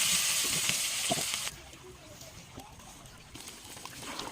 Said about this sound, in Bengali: ভাজা রসুন আর তেলটুকু ঢেলে দিলাম মাংসের পাতিলে